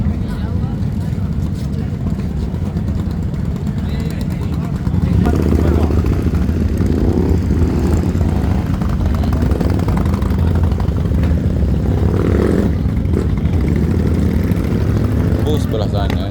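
Harley-Davidson motorcycles rumble at a bike show, a loud, steady, low idling drone that thickens partway through, with people talking nearby.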